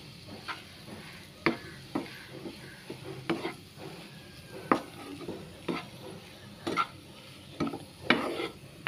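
Chicken sausage masala frying in a pan under a soft sizzle, with a spatula scraping and stirring in irregular knocks and scrapes, fairly close and moderately loud, no talking.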